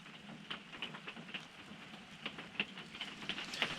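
Soft, steady rain patters at an RV campground in Alabama, with scattered drips tapping nearby, fairly quiet and continuous with no voices.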